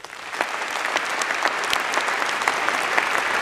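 Steady, full applause from a ceremony audience for Earth Science and Engineering graduates at a 2021 commemoration day, building slightly and holding at an even level without speech.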